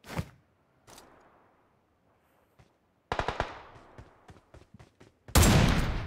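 Bursts of gunfire in the battle royale game PUBG Mobile, with a single shot, a few scattered cracks, then a rapid automatic volley and a loud close final barrage.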